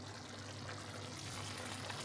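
Boiling water trickles steadily from a kettle into a cooking pot, a soft continuous pouring stream heard up close with no talking.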